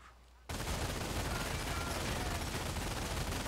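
Sustained machine gun fire from the Company of Heroes multiplayer battle game bursts in after a short quiet moment, a dense, loud, continuous rattle of rapid shots that holds steady to the end.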